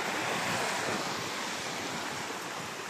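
Steady roar of ocean surf washing onto a beach at Boracay, a continuous broad hiss with some wind rumble, no voices.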